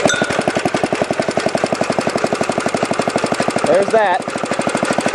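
A 1953 Sears Craftsman reel power mower's small engine runs with a rapid, loud, even popping chug close by, and a voice speaks briefly near the end.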